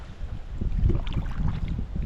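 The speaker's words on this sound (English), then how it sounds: "It's a little windy." Wind buffets the microphone while kayaking on a reservoir, a steady low rumble with shifting gusts over faint water sounds.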